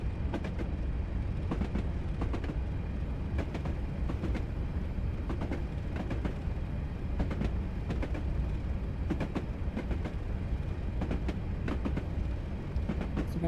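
A train rolls along the West Highland Line in a train simulator game, a steady low rumble with regular clickety-clack wheel beats over rail joints, continuous and moderately quiet.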